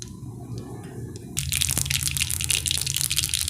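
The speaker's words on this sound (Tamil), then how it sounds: "கடுகு நல்லா பொரிஞ்சிச்சிங்க." Mustard seeds crackle and pop in a spoonful of hot oil for broad bean poriyal, a dense, loud burst of spattering that starts abruptly partway through over a low pan hiss.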